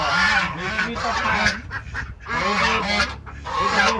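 Farm geese honk loudly and close, in repeated bursts of harsh calls that overlap with other birds on a mixed poultry farm.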